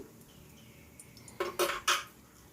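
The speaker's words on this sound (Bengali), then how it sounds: "অন্য বড়াগুলো আমি একটু নাড়াচাড়া করছি" A metal spoon scrapes and knocks three times against a pan of frying prawn fritters, sharp clinks following a faint, quiet sizzle.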